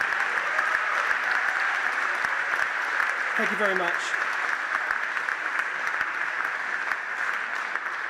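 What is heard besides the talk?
audience applause at awards ceremony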